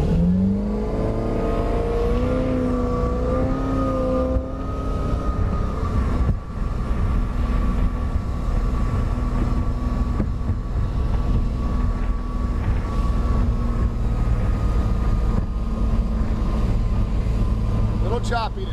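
A restored Glastron motorboat speeds over choppy water, its engine a loud, steady drone that rises in pitch early on, with wind buffeting the microphone and thumps from the hull hitting the water.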